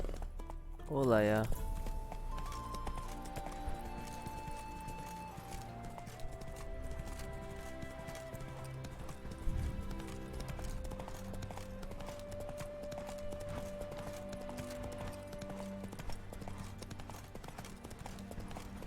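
A horse in The Witcher 3 gallops with a steady, quiet clip-clop of hooves under in-game music. Someone talks over it now and then.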